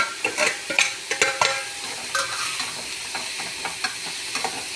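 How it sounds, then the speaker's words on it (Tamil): Stuffing for stuffed parotta sautés in a pan with garam masala, turmeric, fennel powder, chilli powder, sambar powder and salt, sizzling softly as a spoon stirs and scrapes in irregular clicks, close and alone. "நல்லா வதங்கணும்ப்பா. வதக்கட்டும் காட்டுறேன்."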